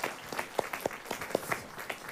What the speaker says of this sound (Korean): 우리 또 서로에게 이렇게 격려와 사랑의 박수를 좀 보냈으면 좋겠습니다.